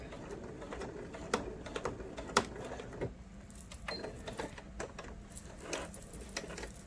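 A sewing machine backstitches a pocket onto a winter cape, giving a quiet run of light, irregular mechanical clicks and short stitching bursts, with a few sharper taps standing out.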